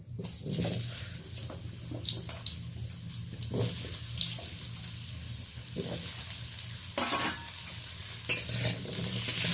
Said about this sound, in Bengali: এই কড়াইতে আমি অল্প তেল দিয়ে আলুটাকে ভালো করে ফ্রাই করে নেব।